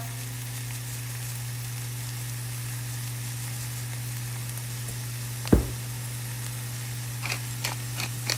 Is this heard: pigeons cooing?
no